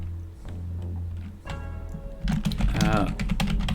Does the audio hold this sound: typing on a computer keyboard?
yes